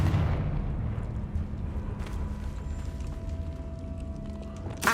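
Hogwarts Legacy's Confringo fire spell lets out a rumbling, booming blast that fades into a continuous roar, and a sharp crack near the end.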